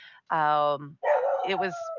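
Nearby, a dog gives a short bark that stretches into a howl-like yelp, mixed with someone talking.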